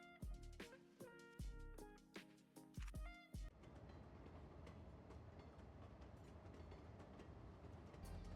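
A cargo train in the city-building game Cities: Skylines II reverses, starting with a few sharp clanks and musical tones before settling into a continuous rolling rail rumble.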